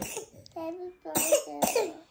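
A sick one-year-old child coughs in short bursts at home, close to the microphone: a brief cough, then a higher vocal sound, then two sharper coughs in quick succession, with faint voices between.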